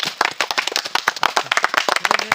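A quiz-show audience breaks into dense, rapid hand clapping, a lively close burst of many overlapping claps with no talking.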